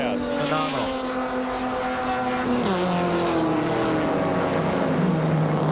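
Ford Mustang race cars in a 1997 sports car road race at Road Atlanta, several engines wailing together with shifting, gear-changing pitch, one car drafting and pulling alongside another, loud and continuous under a commentator's voice.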